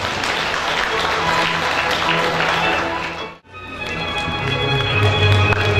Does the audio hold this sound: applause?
yes